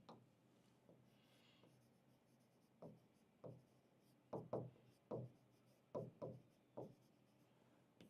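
A teacher writes on a classroom board, a run of distinct scratchy strokes and taps, sparse at first and then coming in quicker clusters, close and clear with no talking.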